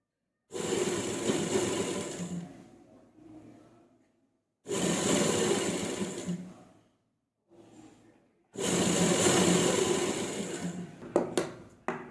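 A sewing machine runs in three separate bursts, loud and close, as it stitches the cloth of a collar neck, with short silences between the runs.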